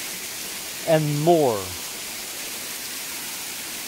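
A waterfall at Mont-Tremblant gives a steady, broad hiss of falling water in the background throughout, while a voice speaks briefly over it.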